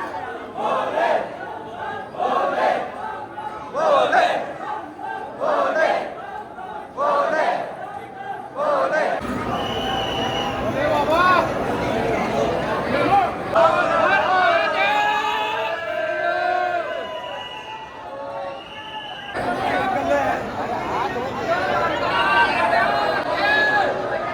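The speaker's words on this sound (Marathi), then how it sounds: "गर्दी बघा गर्दी." A large, dense crowd packs the Mahakal temple in Ujjain during a Shravan Monday darshan, a constant close wash of many overlapping voices, shouts and bustle. Someone talks over it in the first part.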